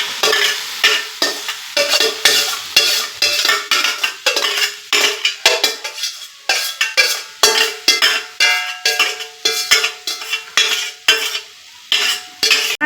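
Spicy corn chilli is stirred in a pan with loud, rhythmic metal scrapes and clinks of a spoon against the pan, repeating every half second or so over a soft sizzle.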